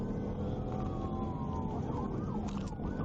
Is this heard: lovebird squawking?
no